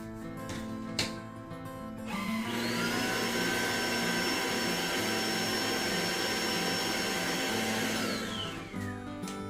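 A quiet vacuum cleaner starts up with a rising whine, holds a steady hum for about six seconds, then spins down. There is no talking, only a faint click before it starts.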